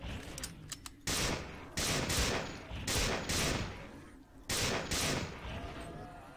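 Gunfire in the game System Shock 2 hits the player in loud, close bursts. Four or five rapid volleys are separated by short gaps.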